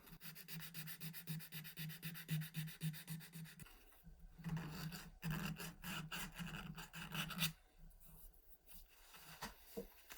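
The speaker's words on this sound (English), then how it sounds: "A little bit of sandpaper." Steady rasping scratch of sandpaper worked back and forth along an axe handle, close and continuous, with a brief pause midway before the rubbing resumes in choppier strokes.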